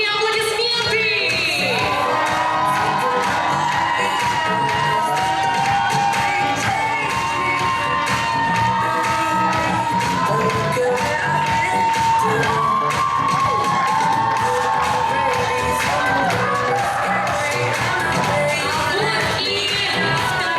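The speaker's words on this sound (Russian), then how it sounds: "Давайте прямо сейчас девушек проводим под ваши громкие аплодисменты." Loud, sustained cheering and applause from a packed hall audience at a university beauty and talent pageant, steady across the whole stretch, with shouts and whoops and a musical backing beneath the crowd noise.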